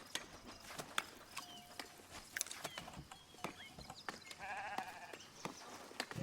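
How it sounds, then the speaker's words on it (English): Sheep in the farming and colony-building game Foundation bleat a few times amid a busy game soundscape of clip-clopping hooves, clicks and ambient village activity, with no one talking. "She's out there tending to her sheep."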